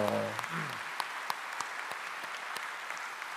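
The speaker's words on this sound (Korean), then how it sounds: "우리 목사님 네분 위해서 박수 한번 합시다" A church congregation gives a brief round of applause for four pastors, light scattered claps rising just after a voice trails off, fairly soft and distant in a large room.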